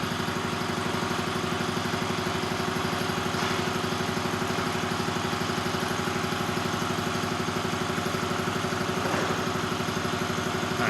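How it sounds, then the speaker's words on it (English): An air compressor running in a garage workshop during a belt repair, producing a steady, loud mechanical drone with a rapid regular pulsing chug that holds unchanged throughout, close by and with no talking. "I know the compressor's going off."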